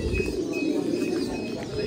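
A pair of breeding pigeons on a farm coo in soft, continuous low murmurs close by, with a few faint chirps above.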